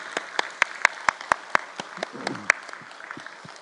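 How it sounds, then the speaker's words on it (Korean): A church congregation at a Wednesday prayer meeting claps, starting as sharp, separate, rhythmic claps that thin out into scattered ones, close and fairly loud, with a brief vocal sound partway through. "또 감사와 하나님께 영광의 박수하겠습니다."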